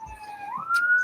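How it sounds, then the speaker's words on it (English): An emergency vehicle siren at night rises in pitch over about a second, heard moderately close and clear with almost no other sound. "We may have some loud sirens come by in a second."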